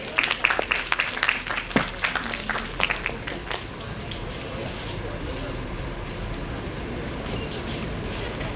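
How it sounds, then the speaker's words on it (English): Applause from a conference audience greeting dignitaries at an IEEE international conference inauguration ceremony, dense clapping from a large hall at moderate distance that thins and fades into room murmur. "Welcome our dignitaries with a big round of applause."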